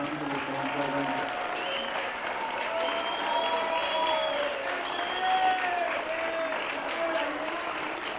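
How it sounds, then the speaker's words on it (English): Steady applause rises for 2021 graduating band seniors standing at a high school band's outdoor summer concert, a dense, continuous crowd clapping with some cheering and voices mixed in, holding an even level throughout. "could I ask all of our 2021 graduating seniors to stand and get a huge round of applause for everything you've put up with and done for this band program?"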